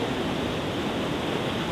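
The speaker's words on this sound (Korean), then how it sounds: "야, 파도 엄청 세." Strong ocean waves at Santa Monica beach roll in as a steady, dense roar of surf that holds unbroken and fairly loud throughout, with no voices over it.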